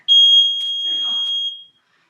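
Workout interval timer giving a single long, loud electronic beep at a steady high pitch, lasting about a second and a half, close and clear, with faint sounds of movement underneath.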